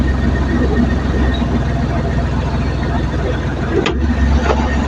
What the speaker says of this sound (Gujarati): આ તો ગાડી આપણી થઈ ગઈ ચાલુ।